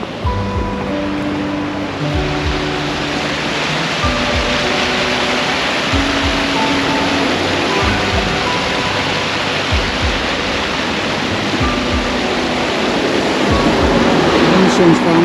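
A river beside a campsite in Luxembourg roars steadily and loudly nearby, a constant broadband wash that never lets up, with faint voices in the background.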